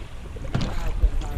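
A kayak runs river rapids, with rushing, turbulent water and gusty wind buffeting the microphone, close and continuous, with a faint voice underneath.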